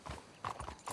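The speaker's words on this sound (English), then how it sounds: "Having a little trouble with your horse there?" A horse in the open-world western game Red Dead Redemption 2 makes quiet clip-clopping hoof steps with a faint whinny. The short, uneven beats are soft and fairly distant.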